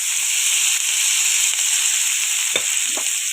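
Ginger frying in oil over a medium flame for a chutney, a steady loud hiss of sizzling with a couple of brief louder crackles near the end.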